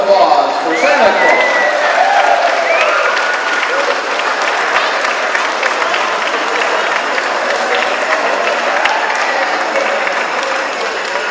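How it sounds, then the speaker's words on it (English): A crowd at a holiday tree lighting applauds and cheers as Santa Claus arrives, dense sustained clapping filling the whole stretch with a few voices mixed in. "How about a round of applause for Santa Claus?"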